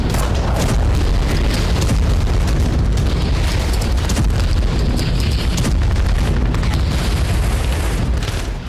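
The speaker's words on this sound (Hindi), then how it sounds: "अमेरिकी गाइडेड बम के सटीक निशाने से यूक्रेन ने पूरी इमारत को उड़ा दिया" An American guided bomb blows apart a factory building in Vovchansk, Ukraine, producing a loud, sustained roaring blast with dense rumble and crackling debris throughout, close and overwhelming.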